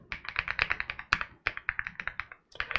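A password being typed on a computer keyboard: a quick run of close, crisp key clicks in an uneven rhythm, with one short pause partway through and no talking.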